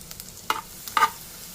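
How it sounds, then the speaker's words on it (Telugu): Grated coconut fries in ghee with a soft, low sizzle, broken by a few short spatula scrapes and stirring strokes close by. "ఆ కొబ్బరిని అంతా ఈ నేతిలో వేసుకొని రెండు నిమిషాల పాటు వేయించుకుందామండి"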